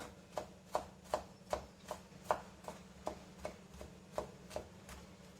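Green chilli being finely chopped with a knife on a board for oats dosa, about thirteen crisp, evenly spaced knife strikes at a steady rhythm, close and moderately quiet with no talking.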